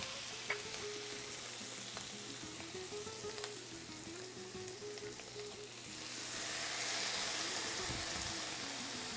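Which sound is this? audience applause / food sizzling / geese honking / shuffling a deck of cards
food sizzling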